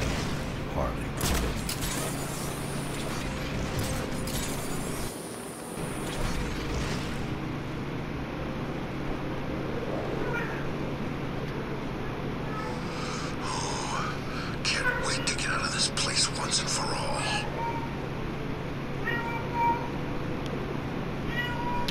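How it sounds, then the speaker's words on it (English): A pet cat meows repeatedly indoors under ongoing video game audio, with a person talking over the sounds. "Now my cat's just meowing like crazy again."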